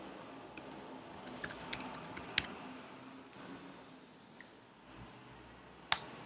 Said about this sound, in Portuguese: vou digitar algum texto aqui.